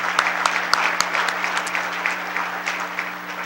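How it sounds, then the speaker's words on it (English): Moderate applause from an audience at an economic development awards event, steady clapping with a few sharper claps standing out, over a low constant hum. "would you please give them a hand of applause"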